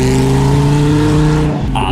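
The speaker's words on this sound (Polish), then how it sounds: "Słyszycie? Kierowca właśnie dogrzewa opony" Car engine revving loudly and close as the driver warms up the tyres. A steady, strong drone holds and then drops off near the end.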